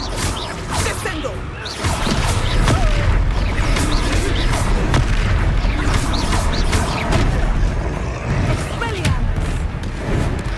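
A Descendo spell cast in Hogwarts Legacy during a battle: a loud, continuous rumbling blast with whooshes and impact cracks layered through it, and a voice shouting over the action.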